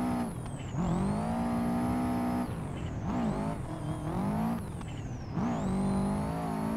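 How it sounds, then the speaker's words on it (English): A Subaru fitted with a new exhaust, drifting in Assetto Corsa, roars loudly and steadily with repeated rev swings and throttle lifts, its harsh engine note rising and dipping through each slide, close and alone. "I did put a new exhaust and everything on the Subaru, so it does sound pretty loud"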